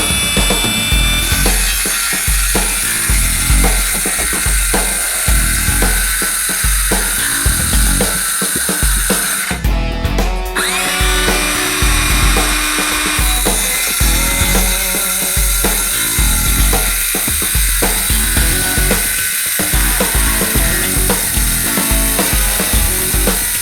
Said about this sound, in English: So I'm going to do that with my circular saw.